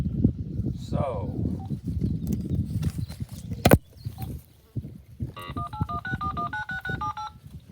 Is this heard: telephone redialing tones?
yes